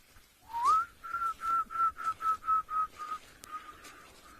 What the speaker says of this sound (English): There's an emerald spotted wood dove, or shivambalana